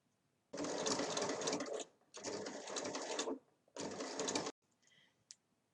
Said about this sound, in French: je vais coudre chaque côté comme ceci